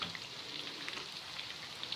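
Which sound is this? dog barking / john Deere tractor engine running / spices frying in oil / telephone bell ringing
spices frying in oil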